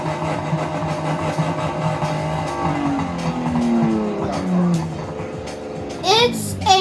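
Nissan GT-R racing in a video game: a steady engine drone with rising and falling revs, and a sharp tire squeal near the end, heard under someone talking throughout.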